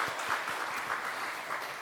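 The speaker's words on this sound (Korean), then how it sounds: "우리 박수로 한번 격려해 보겠습니다." A brief burst of church congregation applause during a service, a dense patter of many hands clapping at a moderate distance.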